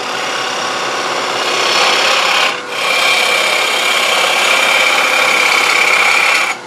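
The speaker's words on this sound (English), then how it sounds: "Trying to take a light cut, so I'm hanging off tool rest this small tool." A woodturning lathe spins a potpourri bowl while a small tool hollows it with light cuts, a steady close scraping hiss with a brief dip midway, then continuing until it drops off.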